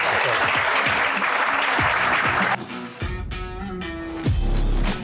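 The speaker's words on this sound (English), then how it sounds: "give a big round of applause" A crowd applauds steadily for a couple of seconds, then the clapping gives way to a quieter stretch with faint music or tones.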